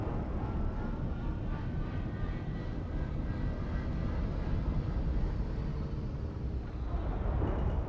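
Spaceship engines running in Star Citizen, a steady, loud low rumble and hum that holds for the whole stretch with no break.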